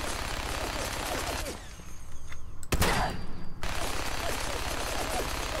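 Guns fire in Fallout 4 with a modded train setting: dense, continuous rapid shooting and clatter fill the scene, broken by a brief lull and a single sharp crack before the barrage resumes.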